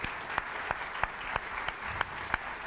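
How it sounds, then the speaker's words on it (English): An audience at a university symposium claps for a speaker, the chairman of The New York Times Company, in a steady, evenly paced applause with sharp regular beats over a soft background wash. "Another round of applause for our great speaker."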